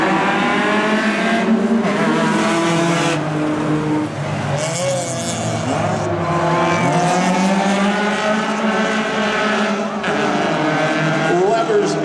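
Race cars lap an oval track in a four-car, four-lap Hornet class race, engines roaring loud and close with rising and falling pitch as they pass, while an announcer talks over the racing.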